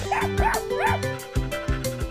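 Small dog in a pet grooming video game giving a run of quick yips and whimpering barks, close and clear, with game music underneath.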